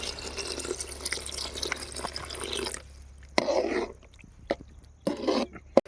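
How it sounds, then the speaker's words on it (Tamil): Water poured into a chicken Manchurian mixture in a village-style kitchen: a continuous splashing stream, followed by several short, separate splashes and drips close by. "தண்ணி போதுமான அளவுக்கு ஊற்றிக்கணும்."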